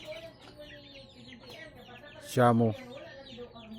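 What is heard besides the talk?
chicks clucking inside a cage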